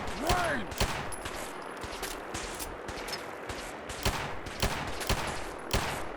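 Rapid shots of gunfire in Fallout 4, some of them landing as headshots: a string of sharp, close cracks spread irregularly over a few seconds, with little talk.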